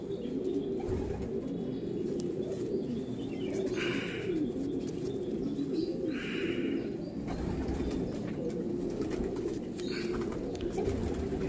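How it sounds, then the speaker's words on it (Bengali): Golden Eyes pigeons coo steadily in a loft, a continuous low rolling murmur of many birds with a few brief wing flutters. "পিছনে দেখতে পাচ্ছেন পায়রার ঘর আছে, আরও অনেক পায়রা আছে।"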